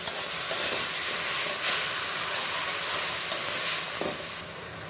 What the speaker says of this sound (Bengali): শাকটা ছিল মিষ্টি আলু শাক। একটু ভেজে নিব।